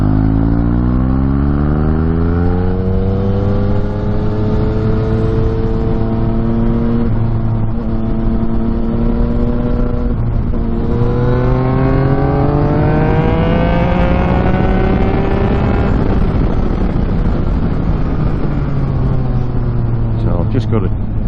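Yamaha MT09 motorcycle on the road, its engine pitch rising and falling through repeated accelerations and gear changes, loud and steady with wind noise throughout.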